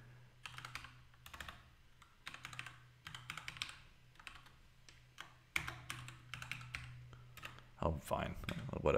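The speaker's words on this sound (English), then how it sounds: "We're not here to test typing." Someone types in bursts on a computer keyboard while working in a terminal, a close clatter of keys with short pauses. A low hum sits underneath, and a louder rustle comes near the end.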